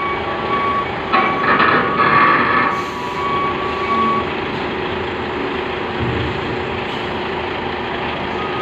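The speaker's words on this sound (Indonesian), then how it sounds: "Lagi trailer juga ya, muat besi." Trailer trucks loaded with steel boarding a ship, with reversing beeps sounding repeatedly over a steady heavy diesel engine rumble and broad background noise, no talking.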